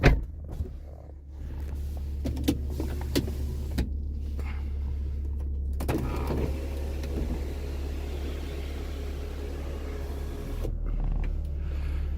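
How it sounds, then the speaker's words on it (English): A car sunroof motor whirs as the roof slides open on a hot day, a steady mechanical hum inside the cabin following a few clicks and knocks, with an engine drone underneath and no talking. "Might as well bring the sunroof out."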